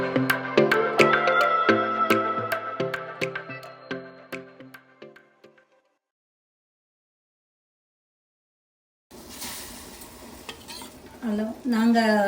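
Ringing metallic clinks fade to silence, then fennel seeds crackle and sizzle in hot sesame oil in a loud, steady hiss.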